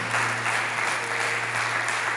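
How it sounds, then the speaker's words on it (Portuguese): A congregation at a Pentecost church service claps loudly and steadily, a continuous dense wash of applause with no voices over it. "Dê uma salva de palmas bem forte a Jesus por isso."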